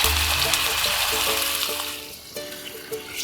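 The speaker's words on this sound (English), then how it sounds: "Pour sauce." Teriyaki sauce made with soy is poured into a hot, oiled frying pan holding salmon, giving a steady sizzling, watery splash that carries on and eases off.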